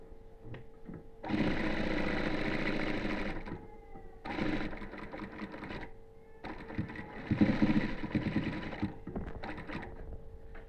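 Sewing machine stitching a cotton housecoat, running in three loud bursts of steady whirring, stopping briefly between each, with faint clicks in the gaps.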